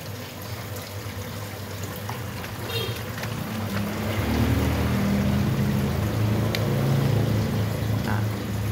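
Medicine solution mixed in water, sloshing in a container as it is shaken, a continuous liquid churning that grows louder about halfway through and stays steady to the end.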